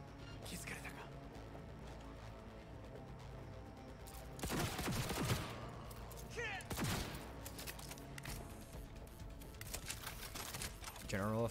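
Gunfire in Cyberpunk 2077 during a parade raid: sharp bursts of automatic shots, several loud volleys separated by quieter stretches, with someone talking over the fighting.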